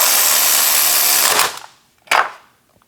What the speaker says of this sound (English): I'll use the electric ratchet and spin it down.